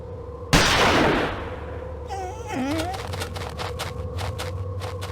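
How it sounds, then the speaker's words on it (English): A single loud gunshot cracks out with a long echoing decay, followed by a wavering wolf cry and faint clatter, in the game Murder on the Orient Express. "The gunshot seems to have frightened him off."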